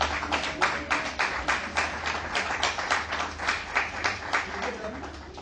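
Clapping from guests at a Congolese dowry ceremony, honouring the witnesses: dense, steady rhythmic hand claps throughout, moderately loud, with a low hum of voices underneath.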